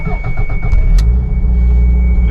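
Toyota MR2 engine cranking and catching after sitting for days, then settling into a loud, close idle with a low steady rumble.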